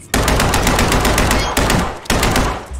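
Rapid automatic gunfire in a zombie shooter video game, a loud sustained burst broken by two brief pauses, with no talking.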